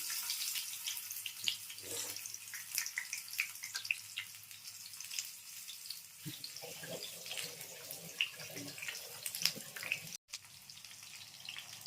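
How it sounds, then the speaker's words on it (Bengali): Pumpkin flower and mung dal fritters sizzle in oil over a very low gas flame, a steady close hiss with scattered crackles and pops that carries on throughout, with no voices over it. "আস্তে আস্তে ভাজতে থাকবেন"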